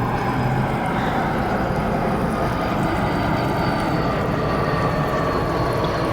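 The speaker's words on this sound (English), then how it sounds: "Give me a second while this plane goes by." An airplane passing overhead gives a steady, loud broadband roar that stays even throughout, with no voices.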